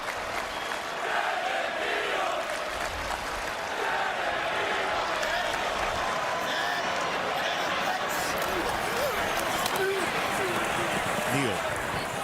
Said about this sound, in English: Crowd chanting, Devin Neal.